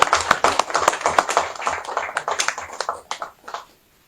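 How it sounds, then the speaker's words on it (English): A small audience claps for Aliko Dangote at a refinery event in Ibeju-Lekki, Nigeria, with distinct, fairly close hand claps forming a lively patter that thins out and stops before the clip ends. "You can clap for him again."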